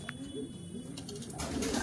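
Pigeons coo softly in a loft, low burbling calls repeating a few times at close range, faint against background hiss with no talk.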